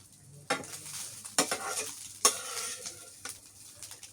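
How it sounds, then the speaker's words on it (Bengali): Fish frying in a pan sizzles quietly under a handful of sharp spatula scrapes and clinks against the pan, spaced about a second apart. "মাছ ভাজি করছো"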